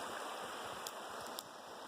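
A creek runs right beside a campsite in the Idaho backcountry, giving a steady, close rushing wash of water with no voices, plus a couple of faint brief ticks.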